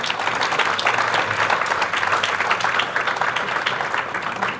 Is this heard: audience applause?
yes